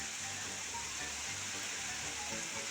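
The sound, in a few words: heavy rain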